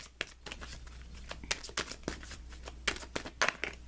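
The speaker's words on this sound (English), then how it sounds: "I'm going to give these cards a little bit more of a shuffle here." Tarot cards being shuffled by hand, giving a run of crisp, papery riffles and flicks that come close and irregular, with no talking over them.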